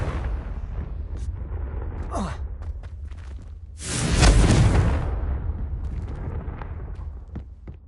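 A Confringo fire spell explodes in Hogwarts Legacy: one loud, booming blast with a rumbling tail breaks out in the middle, between quieter game sounds and faint clicks.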